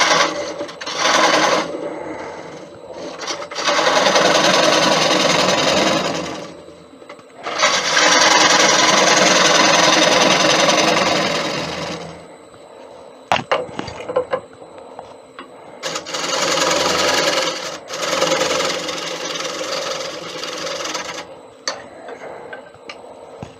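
A wood lathe tool cuts a mortise in a 17-inch acacia bowl, giving several long bursts of rapid ticking and rasping scrape separated by pauses, close and loud, with no talk over it.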